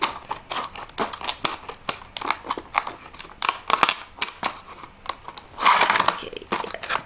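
Eyelet pliers snipping through plastic, a rapid series of sharp crisp clicks and crunches close up, one after another with brief pauses.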